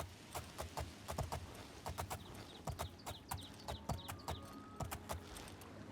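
In the video game Oblivion, a horse's hooves clip-clop in a quick, even rhythm of crisp, fairly close footfalls, alone and quiet.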